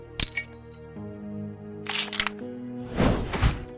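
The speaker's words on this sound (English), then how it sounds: "let's go ahead and cut the bolt" A bolt being cut in the game Modern Tales: Age of Invention. It comes as a few short metallic clinks and snaps over a soft musical backdrop, followed by a longer rattling crunch near the end.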